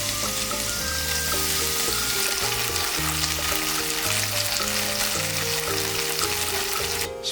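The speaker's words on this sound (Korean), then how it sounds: "가열된 팬에 식용유를 한 바퀴 둘러주고 두부를 넣어" Tofu slabs frying in cooking oil in a hot pan, a steady dense sizzle and crackle running throughout, close and loud, with low rhythmic clatters and a brief scrape near the end.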